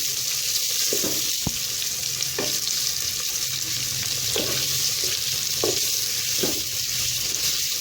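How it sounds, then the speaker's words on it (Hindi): Chopped onions frying in hot oil in a pan for dhaba-style aloo keema, giving a steady loud sizzle with occasional soft stirring scrapes throughout. "प्याज को हम अच्छे से फ्राई कर लेंगे।"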